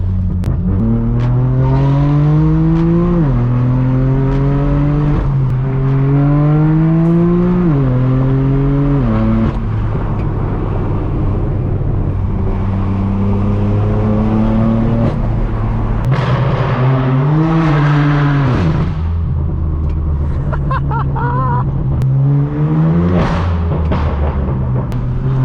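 A loud straight-piped BMW M4 F82 drives fast through Hollywood. Its exhaust rises again and again through hard revving pulls, shifts and throttle lifts, with a raspy drone and crackles, close and steady throughout.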